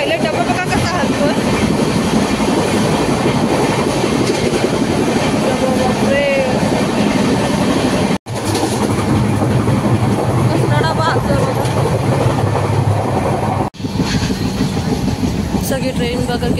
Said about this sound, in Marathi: तर ट्रेन फास्ट आहे म्हणून आम्ही लवकर पोहोचतोय.